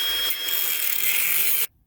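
A cutoff wheel grinds the ceramic off a spark plug with a loud, steady, hissing whine that runs without a break for over a second and a half, then cuts off abruptly.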